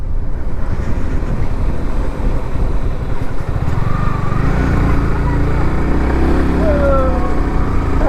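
A motorcycle rides along a road with a loud, rough, continuous engine drone and wind rumble, and a voice talks briefly over it.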